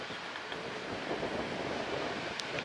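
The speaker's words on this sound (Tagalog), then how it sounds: "Medyo mahangin dito." Steady coastal wind rushes and buffets the microphone, with a broad roar like distant surf underneath and no voices, along the Davao City coastal road.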